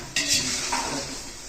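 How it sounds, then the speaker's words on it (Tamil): Ginger, garlic, onion and tomato sauté in a pan, making a close sizzle with scraping stir strokes and a light clink of a utensil against the pan. "வதங்கட்டும், நல்லா வதங்கட்டும்."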